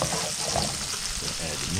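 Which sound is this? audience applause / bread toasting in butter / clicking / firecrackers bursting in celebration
bread toasting in butter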